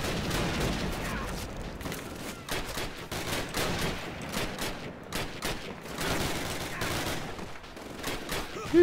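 Gunfire sprays at the player in the World War II shooter Call of Duty: United Offensive, dense bursts of rifle and machine-gun shots rattling almost nonstop, loud and close, with brief lulls between volleys.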